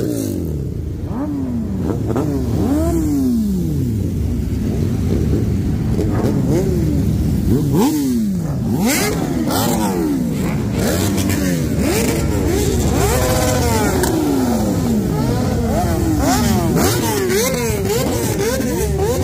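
Motorcycles and other cars revving at a cars and coffee meet, engines loud and close with repeated rising and falling throttle sweeps layered over one another, a steady dense roar throughout.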